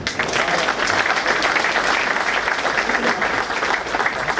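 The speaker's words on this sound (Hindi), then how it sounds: "चेतन जी की तालियों को प्रणाम" Sustained audience applause fills the hall at an Independence Day celebration, a dense even patter of many hands clapping at moderate distance, continuing steadily for several seconds with no speech over it.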